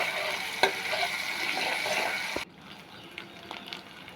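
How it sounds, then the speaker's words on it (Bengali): Spice paste with garlic fries and is stirred in a pan for a fish and red amaranth dish, a busy sizzle with spatula scrapes that drops abruptly to a quieter simmer with occasional clinks; no talk. "দিয়ে আবার মশলাটা ভালোভাবে কষিয়ে নেব"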